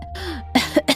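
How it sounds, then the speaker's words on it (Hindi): An old, sick woman lying on a cot coughs three times in quick succession, close and sharp, with a faint hum and a soft throat sound just before. "अम्मा खांसते हुए कहती हैं"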